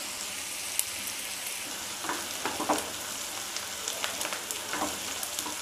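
Onions sizzle lightly in hot oil in a pan while cooking malai kofta gravy. The frying crackle is soft and steady, with scattered small pops and stirring clicks, and no voices.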